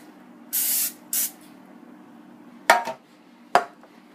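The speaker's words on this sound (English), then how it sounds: "Then you spray the pan with Pam." Cooking spray from a can of Pam misted onto a baking pan for banana bread, in two close hissing bursts, followed by two sharp clanks of the pan being handled in a kitchen.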